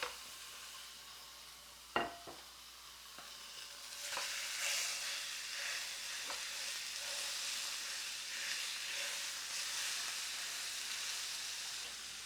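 Wagyu beef sears in a hot pan with no added fat, a steady broad sizzle and hiss that swells after a sharp clatter of the meat going in, holding loud and even for several seconds.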